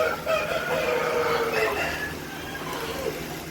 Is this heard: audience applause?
no